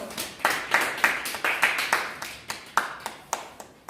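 A small church Bible-study group claps to welcome a student presenter, giving a sparse, rhythmic run of distinct, close handclaps at roughly three per second, with no voices.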